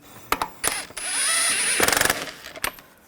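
A ratchet snugs the lug nuts on the rear wheel of a 2013-2022 Buick Encore, giving rapid close clicking bursts with brief metallic clanks, a longer steady stretch of ratcheting in the middle, and no talk.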